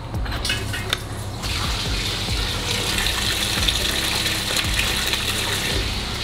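A keg cleaner sprays water inside a sink during brewery cleaning, a loud continuous gushing hiss with splashing that holds steady throughout.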